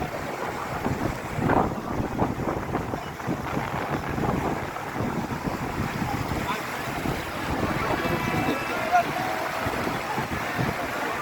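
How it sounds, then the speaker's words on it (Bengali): Rough sea churned by a low-pressure system: a steady, wind-buffeted roar of breaking waves and surf, loud and continuous throughout, with gusts hitting the microphone. "নিম্নচাপ আছে, সাগর উত্তাল।"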